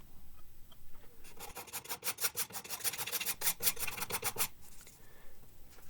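A rapid series of rasping scraping strokes of a hand plane and card scraper on the end grain of a wooden tenon, dense and rhythmic for a few seconds, then stopping.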